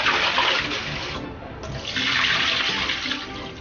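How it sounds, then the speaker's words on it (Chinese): Running water splashes steadily as pork liver and kidney slices are rinsed in a large basin, a loud continuous gush with a brief lull midway and no talking. "把猪肝和腰片投入大盆中，用清水把整2种食材清洗一下"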